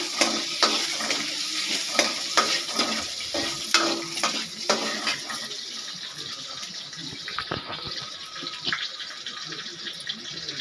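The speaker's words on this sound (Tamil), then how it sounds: "ஒரு பெரிய வெங்காயம் நீல வாக்கில் நறுக்கி வச்சுருக்கேன். அதையும் போட்டு வதக்கிக்கலாம்" Sliced large onion sizzles steadily in a hot pan while a utensil scrapes and stirs in repeated strokes, busier early and easing off later.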